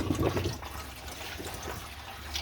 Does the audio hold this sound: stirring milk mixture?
no